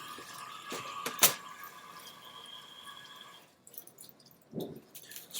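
Water splashes and drips as an elbow is washed clean of fabric residue, with a couple of sharper splats early on, then quieter trickling and a few soft wet squishes near the end.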